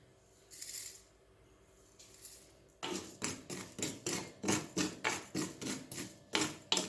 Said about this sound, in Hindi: सबसे पहले हम ये करेंगे कि साबुत मसालों को ड्राई रोस्ट करेंगे